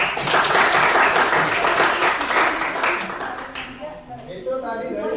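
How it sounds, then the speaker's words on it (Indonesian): A classroom of students claps for the first group, dense applause for over three seconds that thins and fades out, followed by a voice speaking. "silakan kasih aplaus dulu untuk teman kalian"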